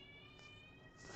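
A cat meows once, faint and brief, over a steady low background hum indoors.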